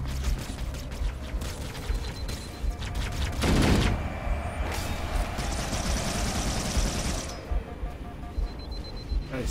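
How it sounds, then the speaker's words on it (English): Anti-aircraft turrets firing in Halo: Combat Evolved give off a noisy stream of rapid shots with a rattling, mechanical texture. The fire peaks in a loud burst partway through and keeps going more thinly afterward. "These are anti-aircraft turrets."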